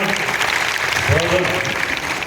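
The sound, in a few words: audience applause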